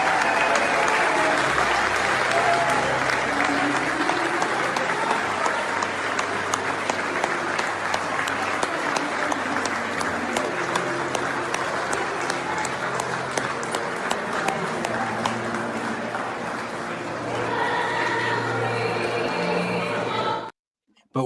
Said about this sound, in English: here's video of Mar-a-Lago guests cheering for Trump